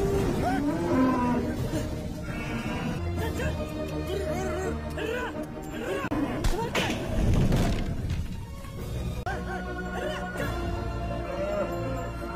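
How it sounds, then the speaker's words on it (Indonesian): Cattle being driven out of a barn moo repeatedly, loud and close, several overlapping calls over a dense background with occasional heavy thumps. "Ram dan Ragu mengeluarkan semua sapi dari kandangnya"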